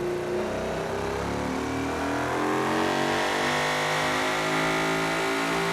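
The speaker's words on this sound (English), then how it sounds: "We're just let it rev a bit." A car engine in the Automation car company tycoon game, a 2010s GT premium build, revs steadily and loudly for several seconds, its sustained tone climbing slightly toward peak power with no talk over it.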